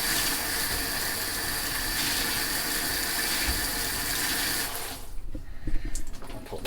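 Steady rushing water runs through an eco shower head in a bathroom, a continuous close hiss that cuts off abruptly near the end, leaving faint drips and small knocks.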